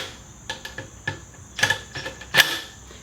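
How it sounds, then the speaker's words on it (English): Bolts being tightened down on a fuel pump replacement on a Yamaha C3 scooter: a series of sharp metallic clicks and ratcheting ticks in irregular bursts, close and moderately loud, with no talking. "Now what I'm going to do is bolt everything down."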